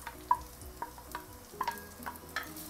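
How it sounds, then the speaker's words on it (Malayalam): Small onions sauté in hot coconut oil in a pan, giving a quiet, steady sizzle broken by several soft stirring clicks and scrapes, with no talking. "ഇത് നന്നായി ചൂടാവുമ്പോൾ നമ്മൾ ചെറിയ ഉള്ളി ആഡ് ചെയ്യാം."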